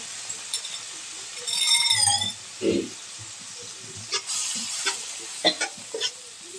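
Egg dropped into a pan of frying cabbage with soy sauce and ginger, crackling and sizzling loudly with bursts of spattering, spatula scrapes and clinks, and a brief hiss of steam.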